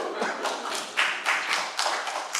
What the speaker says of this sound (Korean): 박수! 미리 박수!